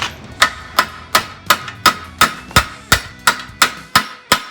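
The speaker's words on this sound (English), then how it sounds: "actually hammering on the weld just to try to move that down a little bit" Steady, rhythmic hammer blows on a metal weld of a 1970 Challenger, about a dozen evenly spaced ringing strikes, loud and close with no talking.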